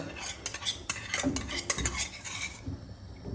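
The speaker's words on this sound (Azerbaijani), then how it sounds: "atırsınız içinə və başlayırsınız qarışdırmağa" A spoon stirs the yogurt mixture for Azerbaijani dovga in a pot, making quiet, close clinks and scrapes in an uneven rhythm with a soft wet swish between them.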